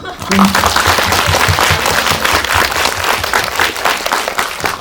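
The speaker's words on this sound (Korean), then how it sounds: "네, 박수 한번." Audience applauding at an indie cinema screening Q&A with a singer and film directors, steady dense clapping filling the whole clip close by, with a short voice briefly over it.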